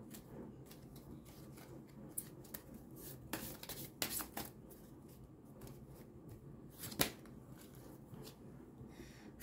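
Tarot or oracle cards being shuffled by hand, giving soft scattered riffles and taps with a few sharper card snaps, fairly quiet and close, with no talk.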